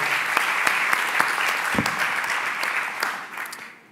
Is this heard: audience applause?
yes